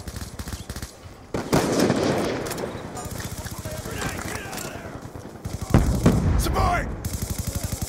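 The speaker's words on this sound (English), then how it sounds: "They be shooting me like crazy." Rapid automatic gunfire rattles in bursts in a first-person shooter played in a public online lobby, with dense clattering volleys and a few louder cracks, while players talk over the action.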